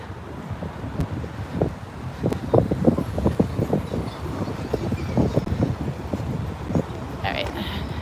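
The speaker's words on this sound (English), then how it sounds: "The wind is great for all this flag action going on here" Strong gusting wind blows around flags along a city parkway in Philadelphia, a steady rough rumble with irregular flapping bursts, loud and close to the microphone.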